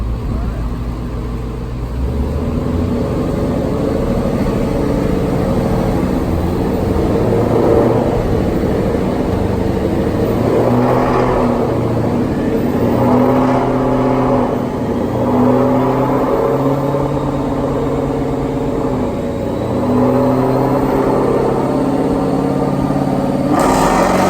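A twin-turbo 2018 Ford Mustang GT engine with a 10R80 transmission runs hard and steady at high revs on a dyno, a loud droning roar with whirring, rising and easing in long pulls before dropping off near the end.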